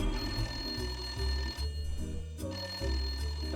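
A phone booth telephone in a video game rings in repeated bell bursts with short gaps between them, loud and close, and no voices.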